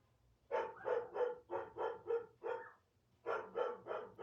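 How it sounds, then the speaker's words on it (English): Dogs bark in quick repeated bursts, two clusters of several barks each separated by a short pause, sounding somewhat distant and muffled. "And you can hear my dogs barking now."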